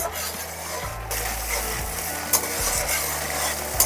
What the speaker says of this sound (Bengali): টমেটোটা ভালো করে কষিয়ে নেব